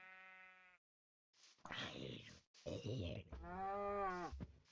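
In Minecraft, a harmonic cow mooing call rings out, then after a short pause comes a burst of noisy game sounds, with a few more moos and sheep bleats close by.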